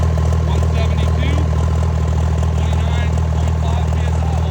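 A Cummins diesel engine on a deckplate runs steadily through its break-in, a loud continuous rumble with a deep drone and rattly upper texture that holds unchanged from start to finish.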